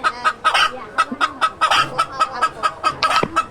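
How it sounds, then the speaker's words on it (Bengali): A hen clucks loudly and insistently just after laying a small egg, with rapid repeated squawking bursts in an uneven rhythm, close by and unbroken for several seconds. "ডিম পাইরা সে যা চিল্লাচিল্লি শুরু করে দিছে"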